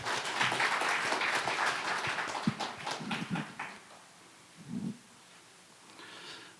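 Seminar audience at a Busan maritime finance event applauding a speaker's introduction: a dense burst of many hands clapping that thins out and fades over a few seconds, with no speech.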